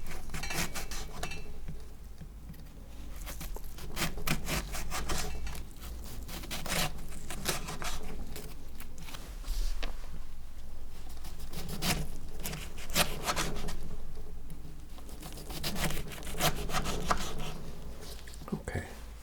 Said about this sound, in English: I'm just gonna cut 5 little slices of this.